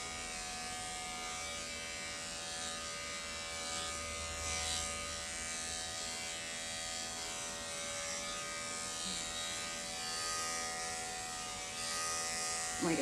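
Andis electric clippers grooming a dog give off a steady, even motor buzz with a high whine. It runs unbroken and close by for the whole stretch.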